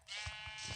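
Sheep bleating in the Minecraft video game: a short electronic bleat with three pulsing bursts, loud and close, with no talking.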